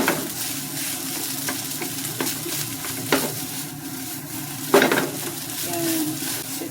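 Yakiniku meat sizzles in a pan, a steady close frying hiss with scattered stirring scrapes and clinks of utensils, no talking.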